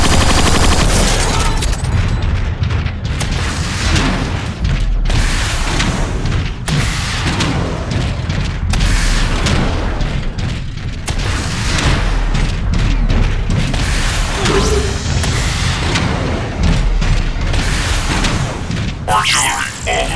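Artillery fire in Transformers: Fall of Cybertron builds into a dense barrage of booms, blasts and rapid gunfire, loud and continuous for about twenty seconds, with voices mixed in.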